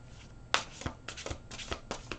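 Oracle cards shuffled by hand for a reading, a short quiet burst of soft riffling flicks in quick succession, close by with no voices.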